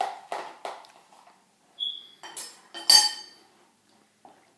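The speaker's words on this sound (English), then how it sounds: "Stir these together." A spoon clinks and scrapes against a glass while a green juice drink is stirred, a series of short bright clinks and taps with pauses between them, close and fairly quiet.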